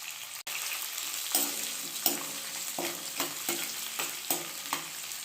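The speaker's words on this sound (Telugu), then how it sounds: "మనం బాగా రోస్ట్ వచ్చేదాకా కలపాలి" Dried red chillies, mustard seeds and onion roast in a pan under a steady close sizzle, while a spoon scrapes and stirs in a regular rhythm of about one stroke per second, with no voices.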